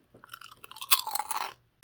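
Crisp crunching as a cheesy, spicy tomato-flavoured Scandinavian snack is bitten and chewed, a burst of close, loud brittle cracks and crackles building and then fading over about a second and a half, with no talk.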